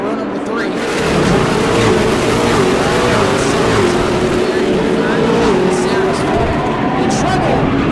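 Race cars at New Smyrna bunch up and take the green flag together, a loud sustained engine roar with rising and falling pitch from several cars close by, with speech over the top.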